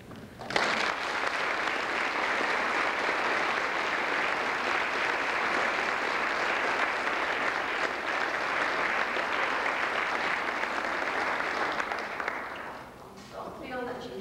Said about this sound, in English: Don't feel that you have to clap.